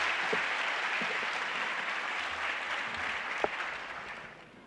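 An audience claps to welcome a guest at a Kutchi Leva Patel community event in Nairobi, a broad, steady wash of applause at moderate distance that slowly fades toward the end.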